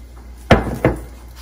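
Balsamic vinegar dressing is mixed in a bowl, giving two sharp knocks of utensil against the bowl about a third of a second apart, close and clear, with no voices.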